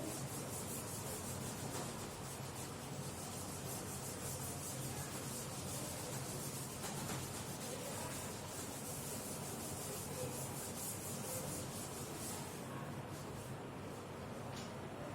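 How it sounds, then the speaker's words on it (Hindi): Something is rubbed clean, likely a board being erased, in a continuous close scrubbing and swishing that keeps a steady level throughout, with no talking. "तो बच्चे रब कर लेते हैं इसको।"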